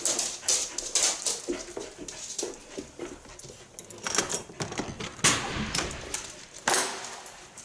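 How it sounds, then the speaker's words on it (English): Dogs in harnesses and on leashes shuffle and pant while they wait for a walk, with close jingling, scratchy clicks and movement noise and an occasional whimper in an irregular, busy stream. "my dogs have their harnesses and leashes on and are ready to go for their walk"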